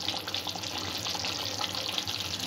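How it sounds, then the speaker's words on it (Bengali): Rose water sprinkled into a simmering vegetable korma makes a faint, steady hiss and patter of liquid hitting the hot pot, quiet and without any voice. "নামাবার আগে সামান্য একটু গোলাপ জল ছিটিয়ে দেব"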